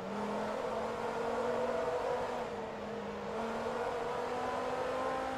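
A steady, whining racing car engine in the video game Forza Motorsport 2 holds a high rev with slight pitch shifts, continuous and moderately loud, with no voices.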